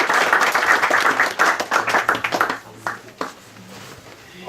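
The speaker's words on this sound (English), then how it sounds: "Let's give them a warm round of applause to all the youngsters who participated." An audience gives a warm round of applause for a youngsters' performance, a dense burst of clapping that thins out after a few seconds into scattered claps.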